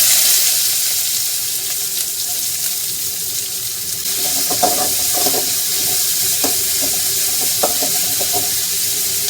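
Sliced large onions sauté in oil tempered with mustard seeds and fenugreek, a continuous bright sizzling hiss that thickens partway through, with scattered stirring clatters and scrapes, close and fairly loud, no voices.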